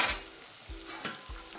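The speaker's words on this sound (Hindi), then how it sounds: "अब इसी समय मैंने ये लिया 100 ग्राम गोंद और इसे हम डाल देते हैं इसमें।" Edible gum (gond) goes into hot ghee and sizzles briefly, with a few soft low thuds from the pan between bursts of frying hiss.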